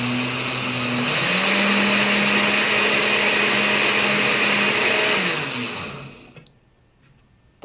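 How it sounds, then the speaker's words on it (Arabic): An electric blender whirs through dried red chili peppers and water: a loud, steady motor drone whose pitch drops once as it loads, running for about six seconds before cutting off into quiet, with no talk. "نضيف كمان بسباس الى الخلاطة. وايضا لا ننسى الماء ونخلط"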